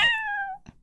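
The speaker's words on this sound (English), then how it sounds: "Oh my god, look at that cat." A single cat meows in a video game, a short, clear, falling cry followed by a brief soft sound.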